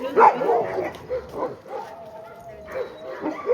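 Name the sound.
sled dogs barking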